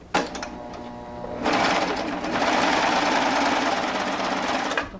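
A Baby Lock Triumph sewing machine stitches fabric in a steady, close mechanical whir that starts after a brief pause and runs continuously with a rapid needle rhythm.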